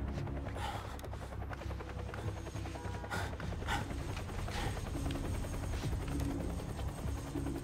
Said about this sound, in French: Il est sympa leur hélicoptère.